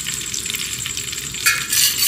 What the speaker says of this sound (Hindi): घी को गर्म होने देंगे।